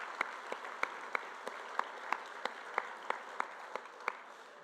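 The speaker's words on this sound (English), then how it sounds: "Can we get a round of applause for the work that the club does?" Audience applause at a charity luncheon, steady but faint and distant, with a few sharper individual claps standing out in an uneven rhythm over several seconds.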